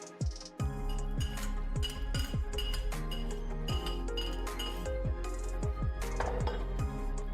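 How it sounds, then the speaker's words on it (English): Chopped onion goes into a pot of hot red palm oil: a dense, continuous sizzle with repeated metallic clinks and scrapes of a utensil against the pot, close and loud, with no talking. "Next, you pour your chopped onion."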